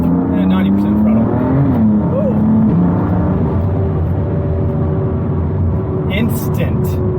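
In third gear, a car with an xHP Flashtool tune accelerates hard at about 80 to 90 percent throttle, its engine note climbing loudly and steadily, with a brief dip before it resumes rising, heard from inside.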